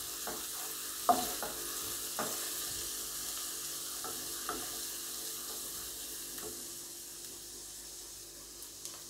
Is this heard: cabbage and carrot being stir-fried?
yes